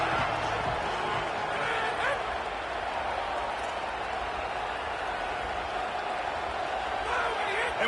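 A stadium crowd roars at an LSU at Ole Miss college football video game, a dense, constant wash of noise, loud and unbroken throughout, with barks and yips rising out of it.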